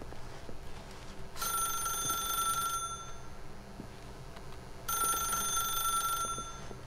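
A telephone rings in the video game The Stanley Parable, two long bright trilling bursts separated by a pause, loud and close over a low ambient hum.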